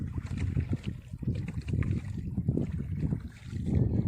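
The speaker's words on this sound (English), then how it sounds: "Hogenekel waterfalls boating." Low churning water and hull slosh from a boat ride at Hogenakkal waterfalls, with rumbling surges and splashes close by, uneven and continuous throughout.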